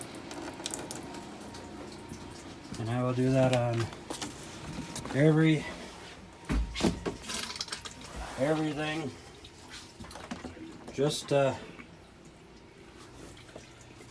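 Water running and spurting from a camper's plumbing lines as they are drained for winterizing, sputtering in bursts, heard under someone talking.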